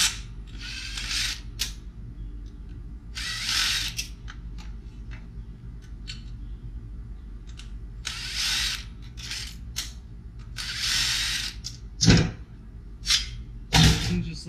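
A hard drive being pulled from a scrap computer tower case, with bursts of metallic sliding and scraping against a steady low hum, then a couple of sharp knocks near the end.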